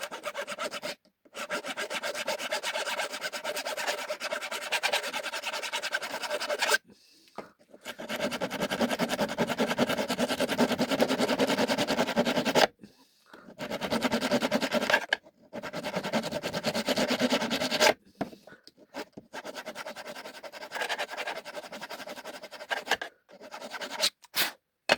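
A metal file rasps against a bicycle chain tensioner part in steady close strokes, repeated in long bursts separated by short pauses.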